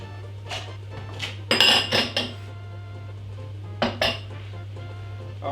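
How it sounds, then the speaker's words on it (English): Dishes, pots and cutlery clatter and clink in a few loud bursts of handling, separated by quieter gaps over a steady low hum in a home kitchen. "I recommend doing your dishes as you go"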